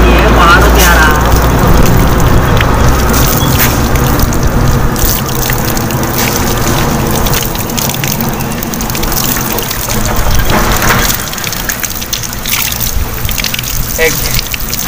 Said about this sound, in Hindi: कुछ पानी है एकदम पहाड़ों का पानी है, पहाड़ों से आ रहा है।